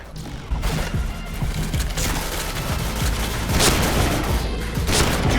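Grenade explosion amid a video-game firefight, with dense, continuous crackling gunfire and crashing impacts building into louder booming bursts near the end, close and loud throughout.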